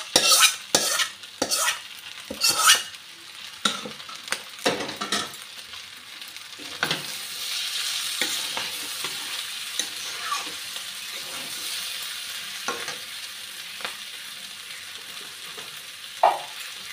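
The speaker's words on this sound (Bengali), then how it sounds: "ডিমটা যে করে রেখেছিলাম এটা দিয়ে দিচ্ছি মশলার সঙ্গে।" Eggs fry and get stirred into masala for egg biryani, with sharp scraping strokes of a utensil against the pan at first, then a steady sizzle and occasional clinks, close and fairly loud.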